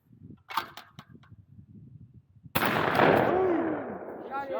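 One loud, sharp shotgun blast at a thrown clay target outdoors, ringing and fading over a couple of seconds. Quieter voices and a call come just before it.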